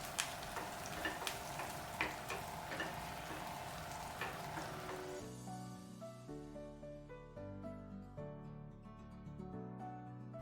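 Fried shallots and curry leaves from a tempering pour into Kerala-style dal with a loud, crackling sizzle that dominates the first half, then settles into softer bubbling and scattered pops; no talking.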